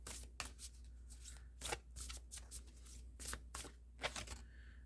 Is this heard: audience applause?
no